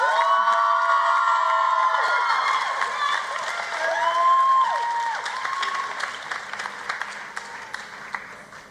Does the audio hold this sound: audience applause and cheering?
yes